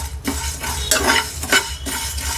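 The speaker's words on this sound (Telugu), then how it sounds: "కొన్ని ఎండుమిర్చిలు వేపుకోవాలి ఇప్పుడు, అంతే. ఇది కొంచెం వేగాలి," Dried red chillies fry in a pan for a fenugreek-leaf chutney, with a steady low sizzle and close, repeated scraping stir strokes of a spoon against the pan.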